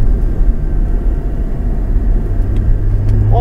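Porsche Cayman GT4 accelerating on a race track, a loud steady engine roar with deep low rumble throughout, close and continuous with no talk.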